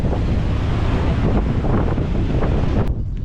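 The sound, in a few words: strong wind at the coast, South Africa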